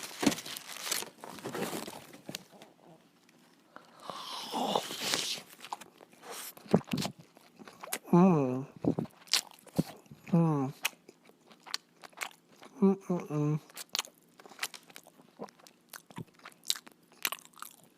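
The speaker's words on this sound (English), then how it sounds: "So I'm just gonna take my first bite." A Fatburger burger with special sauce, pickles and lettuce is bitten into and chewed up close, giving soft crunches and wet chewing sounds with bursts of talk and rustling wrapper crinkles nearby.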